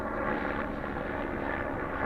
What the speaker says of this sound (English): There goes our helicopter